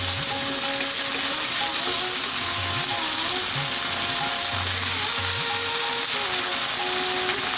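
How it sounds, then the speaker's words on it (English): Garlic and ginger paste, an even half-and-half mix, frying over high heat in a pan for a red kidney bean curry, giving a steady close sizzle with a few low stirring knocks and no talk. "We're now going to drop in that garlic ginger paste."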